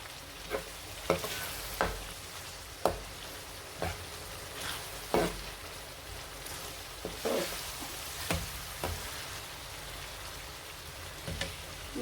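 Vegetable sauce with dried prawns and dry fish being stirred in a pot, irregular soft scrapes and clicks of a spoon spaced a second or so apart over a quiet simmering hiss.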